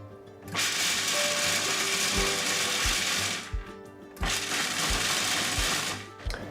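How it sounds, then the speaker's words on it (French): A food processor briefly grinds whole hazelnuts in two loud bursts of roaring whirring, each lasting a few seconds with a short pause between them, and the blades rattle against the nuts. "Une tasse de noisettes, des noisettes entières aussi. Et puis, je vais broyer, mais juste un peu."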